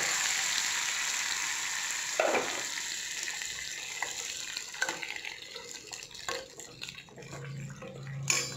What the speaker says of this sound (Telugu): ఇప్పుడు ఈ పోపునంతా ఈ పప్పులో వేసేయాలి.